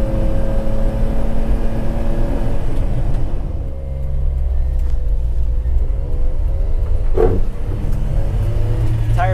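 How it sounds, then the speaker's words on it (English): A Suzuki Carry 4x4 kei truck climbs a steep hill, its small engine droning loudly, dipping as it shifts, then revving and pulling hard again, close and steady. "It's a pretty steep hill here. No problem, I can accelerate up it,"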